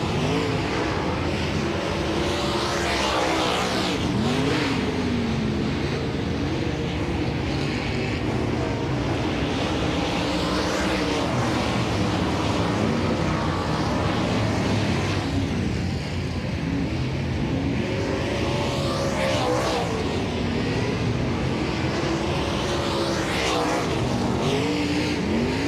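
Dirt track race cars roar through hot laps at Volusia Speedway Park, engines rising and falling continuously as they pass, loud and sustained with no break.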